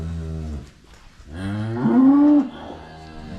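Cows in a barn moo loudly and close by, with one long, low bellow rising and holding for a couple of seconds before fading, and other cattle lowing underneath.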